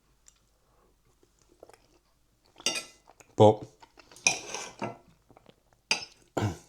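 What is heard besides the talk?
cutlery on a microwave meal tray, adding beans and gravy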